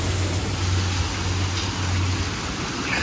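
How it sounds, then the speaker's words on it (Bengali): Heavy rain pouring down during a thunderstorm, a loud, dense and steady hiss that fills the whole stretch without pause, with a low hum underneath and no voices. "বিভৎস বৃষ্টি হচ্ছে, বিভৎস মানে বিভৎস"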